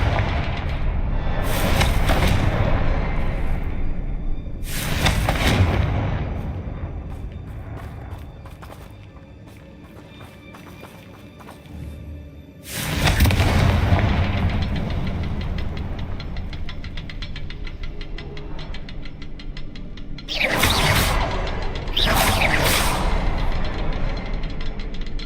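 Fire spell explosions in the video game Hogwarts Legacy go off as several loud booming bursts spread irregularly, some in quick pairs, over a rumbling game soundscape with no voices.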